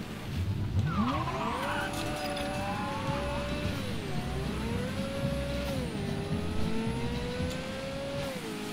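Porsche driven in Mafia III: a loud engine drone rises and falls through gear changes, with a sharp tire squeal and skid early on, continuing steadily throughout without talk.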